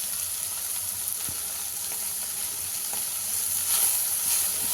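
Steady close sizzling of oil in a pan as chili powder is stirred into frying gooseberry-style vegetable seasoning, an even hiss with faint stirring scrapes.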